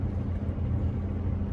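A sailboat's motor running steadily at 1600 RPM under way with an Autoprop propeller, a constant low droning hum with wind and water noise and no talking.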